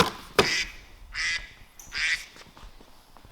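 A bird quacks like a duck in three distinct, nasal calls spaced about a second apart, moderately close, with faint background noise between them.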